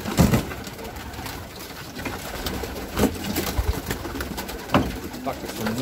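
Male pigeon cooing in a loft, low soft repeated coos heard close, with a person talking over part of it.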